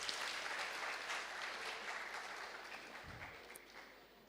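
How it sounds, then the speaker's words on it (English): Audience at a university inaugural lecture claps for itself, a soft, distant patter of applause that fades gradually, with a brief low thump near the end. "Can we clap for ourselves?"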